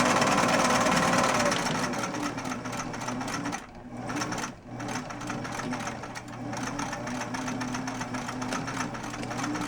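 A 1969 Singer 457 Stylist sewing machine runs a zigzag stitch, giving a loud, steady motor hum with rapid rhythmic needle chatter that dips briefly twice before resuming, close by, with a voice at times.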